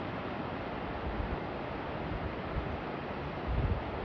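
Water rushing at the very bottom of the Oroville Dam main spillway at full lake, a steady broadband roar with low rumbling surges, constant and loud without any talk.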